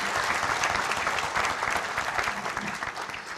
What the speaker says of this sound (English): I think we need to give a big round of applause for him.